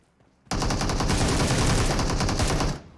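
Sustained automatic gunfire in PUBG Mobile, a loud rapid burst of evenly spaced shots lasting over two seconds before cutting off.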